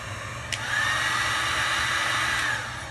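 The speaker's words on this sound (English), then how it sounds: "So that's a heat gun." A Power Fist 12.5 amp heat gun runs with a steady, loud whooshing blow after a brief click at start-up, holding an even airflow roar before tapering slightly at the end.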